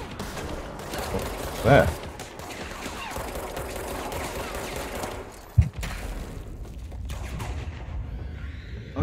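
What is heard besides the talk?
gunfire in video game Control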